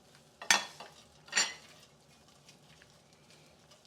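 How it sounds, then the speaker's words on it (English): Frozen prawns drop into a hot pan for a prawn and cranberry rice pilaf. Two bright sizzling bursts rise as they land, then a quieter crackle with faint utensil clinks, and no talk. "I'm just going to pop the heat back on. And into that, I'm going to add my prawns."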